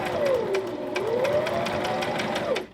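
A sewing machine stitches bias tape onto a small kitchen sewing project, its motor whirring steadily and close up with a pitch that dips and rises as the speed changes, then stops near the end.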